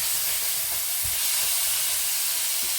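Cubed lamb cooking in a stew pot for lamb stew, giving a steady steamy hiss with a few soft low thumps of stirring, continuous and close.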